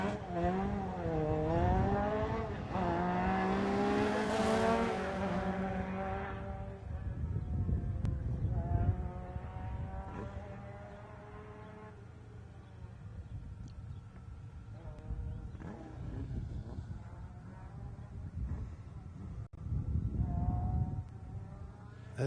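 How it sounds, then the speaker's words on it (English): Reynard Formula Opel Lotus race car at a hillclimb start, its engine revving in rising, falling pitch sweeps that build to a loud scream, then settles into lower rumbling with further revs later. "Russell Stanworth about to start, champion a couple of years ago in the Reynard Formula Opel Lotus"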